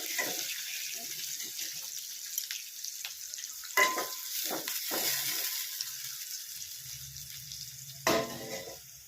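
Bay leaf, cinnamon and cloves fry in a pan for chhole, giving a faint bright sizzle with scattered stirring clatter and a couple of sharper pan knocks.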